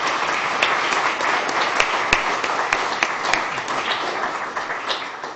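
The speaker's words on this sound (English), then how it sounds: "I'd just like a little round of applause for Jen." Round of applause from an audience at a university climate-policy panel event, a steady wash of clapping with distinct individual sharp claps standing out throughout.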